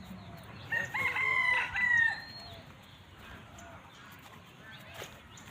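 A chicken crows once, loud and near, for about a second and a half, then only soft farmyard background remains.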